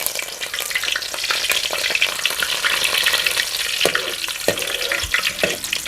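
Whole spices and green chillies sizzle loudly in hot oil, a constant crackling hiss broken by several sharp knocks and scrapes as a spoon stirs the pan.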